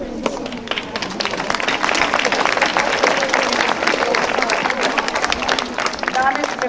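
A school audience applauding at a primary school event in Brežice, dense continuous clapping from a large crowd, loud and close, with voices mixed in.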